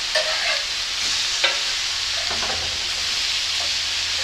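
Burger patties frying in a pan, a loud continuous close sizzle with a few scraping clicks from a utensil, no voices.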